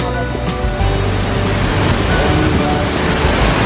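Rushing water of Mother Falls at Baler pours in a loud, steady roar of broadband noise that fills the scene without a break.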